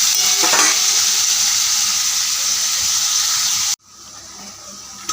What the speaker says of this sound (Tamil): ப்ரான் மிக்சிங் பண்ணி நல்லா ஃப்ரை பண்ணணும்.